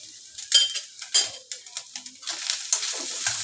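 A utensil stirs spiced meat in a pan, scraping the metal in quick irregular strokes over a faint sizzle, close and clear with no talking.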